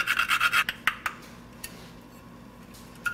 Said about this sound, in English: I'm just going to grate maybe the equivalent of 1/4 teaspoon